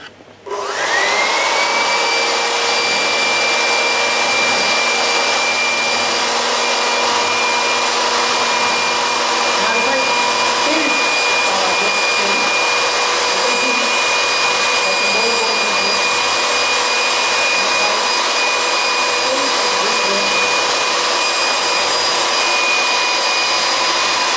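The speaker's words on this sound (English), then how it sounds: "I will try to float this ball on the column of air that is being produced by this blower." An air blower pushing a high-velocity column of air that floats a ball, heard as a loud, continuous whirring roar with a steady motor whine, starting abruptly and running unbroken.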